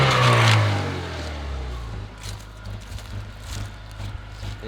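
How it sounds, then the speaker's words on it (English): A Honda Civic engine revs up once, close and loud, then drops back to a rough, uneven idle. "I'll give you guys a couple good revs and show you what I'm talking about."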